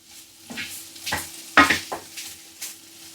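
Corned beef hash with tinned potatoes fries in a pan with a low sizzle, broken by several close spoon scrapes and stirs of varying loudness, with no one talking.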